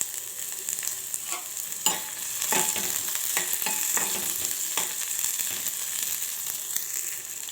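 Onions and garlic cloves stirred in a hot frying pan for a brinjal curry give steady close sizzling, broken by repeated sharp scraping strokes of the spoon at an uneven rhythm, with no talking.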